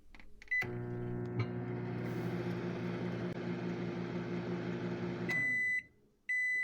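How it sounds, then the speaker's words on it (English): A microwave oven runs with a steady droning hum for several seconds, then stops and gives a couple of sharp, high electronic beeps. "The beeping of the appliance had her covering her ears again."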